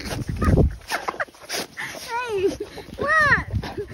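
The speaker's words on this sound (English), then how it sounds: "This is our monster Rottweiler." A Rottweiler whimpers and yips in a few short, rising-and-falling whines, close by, between a person's excited talk and other scattered sounds outdoors on a cloudy day.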